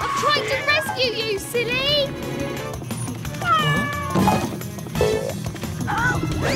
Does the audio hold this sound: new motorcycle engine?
no